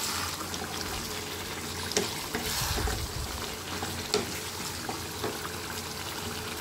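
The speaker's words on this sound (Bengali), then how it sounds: "এবার আমি মাংসটাকে পুরো মশলার সাথে ভালো করে কষে নেব" Meat and spices are sautéed in a pan, a steady close sizzle broken by repeated spatula stirs and a couple of sharper knocks against the pan.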